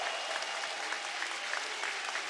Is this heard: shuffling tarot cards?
no